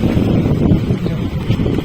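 Wind buffets the microphone with a steady, rumbling roar, gusting slightly throughout, on a boat to Elephanta Island.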